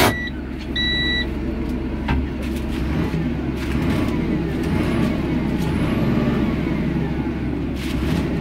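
A 2009 Claas Arion 610 tractor with its engine running as a steady close low rumble, plus a brief high brake hiss and squeal near the start, heard without talking.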